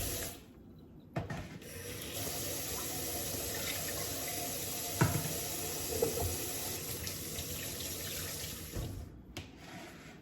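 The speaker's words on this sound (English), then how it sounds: "Just gonna rinse off any blood that might be on the meat." Tap water runs steadily into a sink over raw ground beef being rinsed in a kitchen, a continuous close splashing stream with a few brief knocks and handling thumps, no talk.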